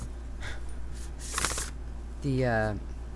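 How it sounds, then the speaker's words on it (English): An oracle card deck is shuffled by hand in a couple of quick riffling bursts, close and crisp, followed by a short stretch of talking. "It's just I can shuffle this more comfortably, and that's really what matters to me."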